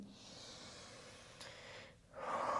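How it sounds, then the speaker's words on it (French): A close, soft, airy breath flows during a yoga flow, ending in a stronger, louder exhale in a quiet room. "J'inspire encore une fois. J'expire."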